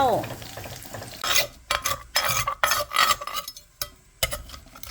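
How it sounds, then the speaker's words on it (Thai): Garlic sizzling in a hot pan for a Thai chili paste while a spatula scrapes and stirs in bursts, with clinks of metal on the pan. "เอากระเทียมไปเจียวให้มันหอมก่อนเนาะ"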